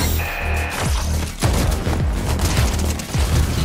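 A turret in Fortnite fires a rapid series of close, loud shots, each sharp crack trailing into a short low boom, with the bursts repeating steadily over a busy game soundscape.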